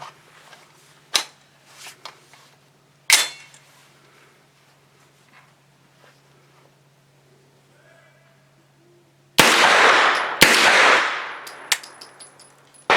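A Primary Weapons Systems PCC pistol fires DRT 85-grain rounds, giving a few sharp, loud cracks spaced apart, then a quiet pause and a pair of louder, longer blasts near the end that ring out outdoors.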